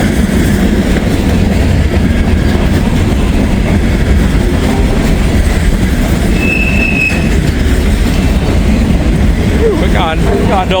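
A Rock Island Railroad freight train of old gondola cars rolls past close by, a loud, continuous rumble of wheels on rails with a brief squeal and some clanking near the end.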